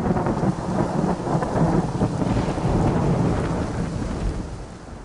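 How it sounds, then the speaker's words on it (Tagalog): A heavy storm strong enough to flatten crops and strip a santol tree, heard as a steady, dense wash of rain with deep rolling thunder underneath, fading slightly toward the end. "May nag-agi nga mabaskag nga bagyo"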